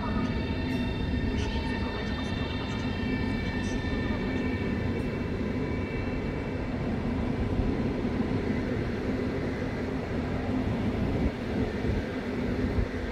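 A Koleje Mazowieckie regional train from Iława pulls into Warszawa Zachodnia station, giving a loud, continuous rumble with steady tonal whine that holds for the whole stretch.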